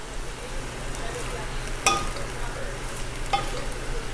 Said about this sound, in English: Halo lang kayo ng halo.